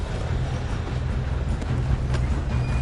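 A train rolls along rails in the video game Red Dead Redemption 2, a continuous low rumble with faint rhythmic clatter and a few light metallic squeaks.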